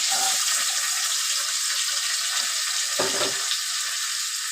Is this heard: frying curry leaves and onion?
yes